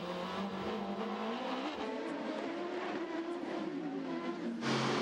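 Race cars including a Porsche lap the Long Beach street circuit in an American Le Mans Series race, engines droning loud and steady with pitch shifting as they run past the fountain, no talk over them.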